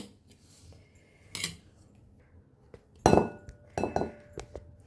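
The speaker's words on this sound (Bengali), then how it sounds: "এবার আমি এটা একটা বাটির ভিতরে ঢেলে নেব" A rice paste for Chitoi pitha is poured into a bowl, with sharp metallic clinks and knocks from a spoon against the dish in several separate bursts amid near silence.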